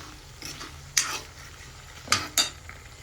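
Spicy country chicken (nattu koli uppukari) with chillies being stirred in a cooking pot: a few sharp scraping and clanking strokes over a low, steady sizzle.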